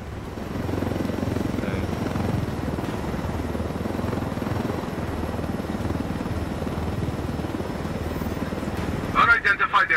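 Helicopter in Ghost Recon Wildlands, its rotor and engine making a loud, steady droning whir that runs the whole time, with a brief burst of sharper noise near the end.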